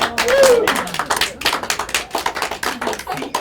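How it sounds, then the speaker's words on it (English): An audience claps warmly at a live mentalism stage show, a dense, steady patter of many hands that carries through the whole stretch, with a brief voice rising near the start. "Give him a nice round of applause."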